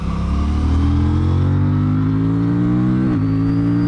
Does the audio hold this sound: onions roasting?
no